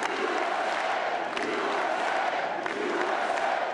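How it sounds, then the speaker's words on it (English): A crowd at an election-night gathering at Mar-a-Lago roars and cheers as Donald Trump arrives, a dense, continuous wall of shouting and applause, loud and steady with no pauses. "Donald Trump arriving to applause"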